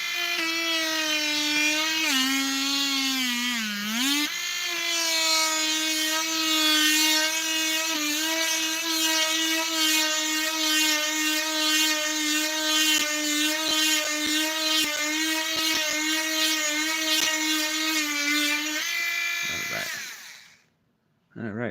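A small drill runs in one long steady whirring burst while eyes are installed on masking tape creatures, close and continuous with a brief dip in pitch early on, stopping abruptly near the end.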